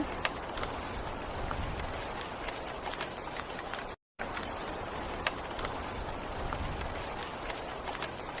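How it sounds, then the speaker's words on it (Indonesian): Steady rain falls close by, a continuous soft hiss scattered with sharper patters of drops, with no voices. "Ya, hujan lagi."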